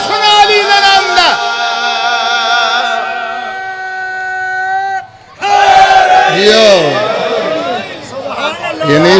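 A majlis crowd shouting religious slogans: loud, sustained chanted voices in unison with long held tones, a brief dip, then a renewed surge of massed shouting, close and dominant.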